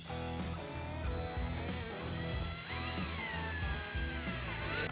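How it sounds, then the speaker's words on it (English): A power drill whines steadily up close, its motor pitch dipping and rising as it bores through material for the whole stretch. "drill this hole"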